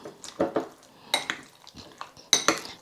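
Chicken pieces are stirred in a lemon marinade in a bowl, giving irregular clinks and scrapes of a utensil against the dish in short bursts, close and fairly loud, with no speech.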